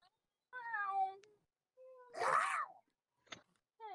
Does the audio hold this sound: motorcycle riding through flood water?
no